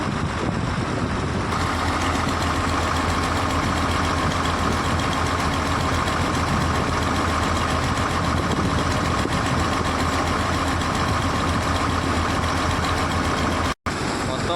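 Several dewatering pump motors run at a construction site in Amaravati, a loud, constant mechanical drone that holds steady throughout with one brief dropout near the end.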